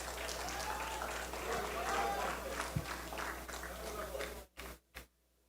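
Audience applause and crowd noise for a contestant at an inter-platoon public speaking competition, steady and fairly loud with some talk mixed in, then breaking into a few short bursts before stopping.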